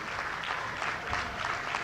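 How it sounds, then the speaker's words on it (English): Audience applause at a speaking event welcoming a speaker back to the Slave Theater, steady dense clapping throughout with no pauses. "Let's give a warm round of applause to our brother"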